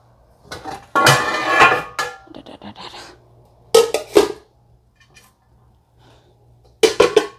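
Metal pans and woks clank and scrape in a few bursts of handling, with quiet pauses between.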